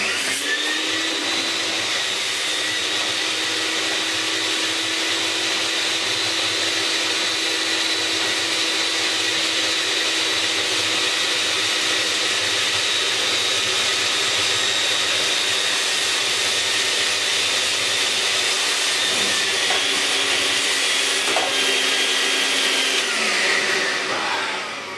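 A Vax 121 wash vacuum cleaner runs with water, a loud, steady high-pitched motor whine and airy hiss that holds close and unbroken for the whole stretch, with a brief shift near the end.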